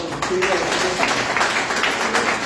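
Church congregation applauding together, a steady broadband patter of clapping that holds throughout at fairly close range, with a voice faintly mixed in.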